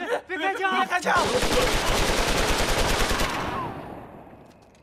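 Automatic gunfire in a Chinese spy-drama scene: a loud, sustained machine-gun rattle that starts abruptly after a brief voice, holds for about three seconds, then fades into a trailing echo.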